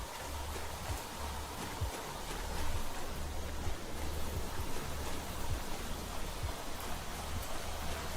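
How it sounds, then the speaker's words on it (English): Rain in the video game Planet Crafter, a steady soft hiss of falling rain with scattered faint drops and a low rumble beneath, continuous throughout. "It's raining again."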